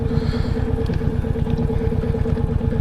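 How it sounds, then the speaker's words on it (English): A Royal Enfield motorcycle engine bounces on its rev limiter, giving a loud rapid pulsing stutter under heavy wind noise. "Rev limiter."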